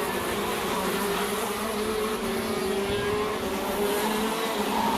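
KZ2 racing karts run through a chicane at Shenington circuit during a race final, a steady buzzing engine drone with rising pitch as they accelerate, moderately close and continuous without talk.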